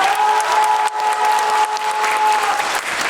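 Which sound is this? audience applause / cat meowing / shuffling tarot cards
audience applause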